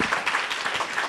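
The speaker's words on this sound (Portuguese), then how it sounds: "Então, vamos recebê-lo com uma grande salva de palmas." Applause from an audience welcoming a speaker at a talk on legal administration for lawyers: a short burst of dense, moderately loud clapping heard alone.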